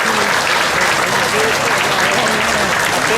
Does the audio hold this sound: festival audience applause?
yes